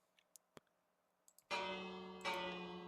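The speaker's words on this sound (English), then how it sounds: "Bell sound." A locomotive bell on a BNSF Dash 9 train in Minecraft starts after a few faint clicks, ringing loud and sustained with a second strike partway through, alone without talk.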